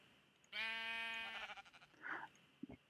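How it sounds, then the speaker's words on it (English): A sheep in the Minecraft video game bleats once, a clear wavering cry, followed by faint shuffling and a couple of soft clicks in a quiet setting. "I can hear the sheep eating upstairs."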